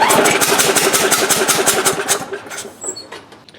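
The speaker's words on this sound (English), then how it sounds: "It has spark, so I can hear when I pull it over, there sounds like the head gasket is blown." A Briggs and Stratton Craftsman lawnmower engine with a blown head gasket is pulled over, giving a fast, rhythmic chuffing beat that slows and fades away within a few seconds.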